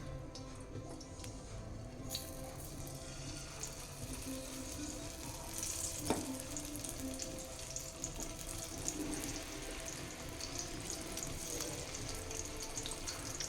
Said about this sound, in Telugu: ఒక బాండీలో ఆయిల్ వేసుకున్న తర్వాత ఈ మసాలా గుత్తి వంకాయలని ఆయిల్లో కొంచెం రోస్ట్ చేద్దాం